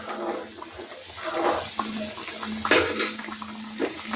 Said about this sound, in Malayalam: ഇപ്പം കറി തിളച്ചിട്ടുണ്ട്. ഇത് ചെറുതായിട്ട് ഇളക്കി കൊടുത്തിട്ട്